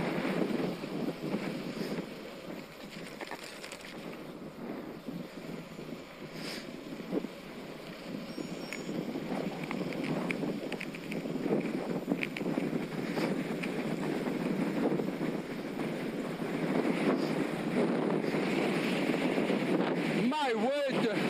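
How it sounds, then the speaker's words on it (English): Strong headwind buffets the microphone of a cyclist riding in the Peak District, a steady roaring rumble throughout with no break. "My word, the headwind I'm going into is ridiculous."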